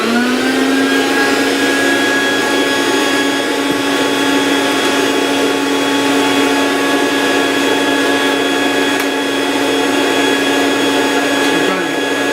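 A Rainbow vacuum cleaner runs continuously during a home demonstration, a loud, steady motor whine and airflow roar with a constant high-pitched tone and no breaks.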